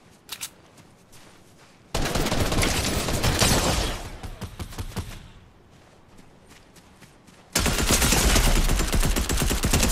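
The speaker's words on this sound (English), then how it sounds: "why are they all shooting at me?" Heavy, sustained machine-gun fire from players in Fortnite pours in two long, dense volleys, with sparse single shots and footsteps in the quieter gap.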